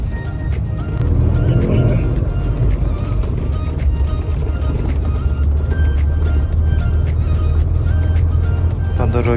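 A heavy truck drives along a short stretch of asphalt on a poor road, its engine a loud, steady low drone with constant road rumble and occasional knocks and rattles, close and continuous throughout.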